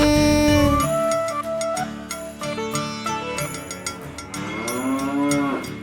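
A cow moos in a long, drawn-out call that bends in pitch, loud and close, set against a tuneful children's song backing in Tamil.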